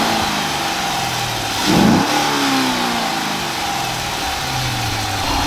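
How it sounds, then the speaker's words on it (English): A naturally aspirated V8 with its factory intake idles close to the microphone, then gives one quick sharp rev that swells and falls back to a steady idle, with no voices present. "We're gonna get a couple clips revving it just from right at the engine with the factory intake"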